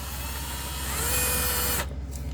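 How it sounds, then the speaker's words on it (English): Power drill driving screws into an electrical box during drywall switch and outlet installation; a steady, loud motor whine runs for nearly two seconds, then cuts off abruptly, leaving quieter room noise. "take a drill, and then tight your screws and tight"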